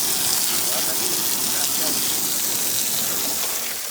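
Water splashing onto potted plants at a flat, a steady broad hiss of spraying water like light rain, close and continuous, tapering slightly at the end.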